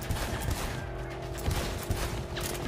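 Gunfire from a Magnum shotgun in the video game Cyberpunk 2077, several sharp reports at irregular intervals over dense, constant game noise with a low hum.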